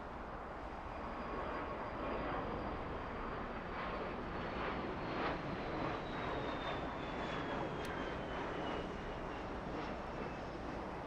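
A Singapore Airlines airliner takes off from LAX, a distant, steady jet engine roar that rises slightly as it climbs away, heard alone without speech.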